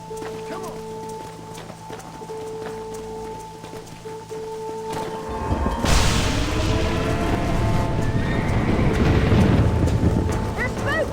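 Horses stampede in the Red Dead Redemption video game, with a loud surge of galloping hooves and rushing noise after a quieter stretch of low tones and music, and a voice shouts briefly over the start.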